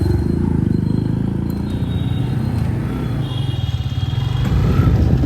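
A CNG motorcycle engine runs at a steady, close, loud throb with a constant pulsing beat and no pauses.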